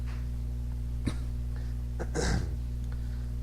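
A single short cough at about one second, followed by a rougher throat-clearing burst, both close by over a steady low electrical hum.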